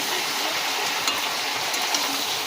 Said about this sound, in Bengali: মশলাগুলো আবার হয়ে গেছে এবার ভালো করে কষিয়ে নিতে হবে